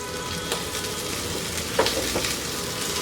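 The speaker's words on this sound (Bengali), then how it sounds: "ওগুলা দিয়ে এর সাথে একটু ভাজবো।" Garlic and thinly sliced broccoli stems fry in a pan with a steady, close sizzle, broken by a few faint clinks of a utensil.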